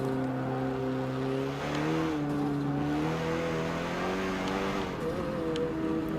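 A sporty hypercar drifts sideways in Forza Motorsport 7, its engine holding a steady, loud, sustained drone whose pitch rises and dips as the throttle shifts. A faint tire hiss runs underneath.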